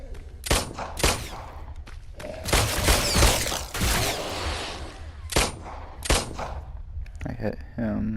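Gunfire in the video game The Brookhaven Experiment, a series of loud, sharp shots in irregular bursts with spaced single reports, over faint background game sound.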